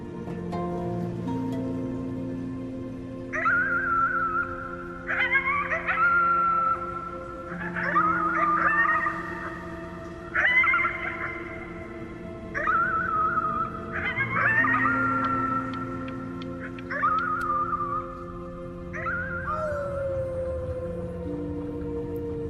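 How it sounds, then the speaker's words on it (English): Howling at the moon in the game Before Your Eyes, a series of wavering, sustained tonal howls rising and falling over a steady musical drone, repeated roughly every couple of seconds at moderate loudness. "You howled at the moon at the top of your lungs."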